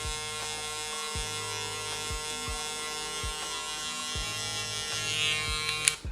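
Electric hair clippers buzz steadily while cutting a man's hair, a continuous close whine with small pitch dips as the blades pass through, no talking.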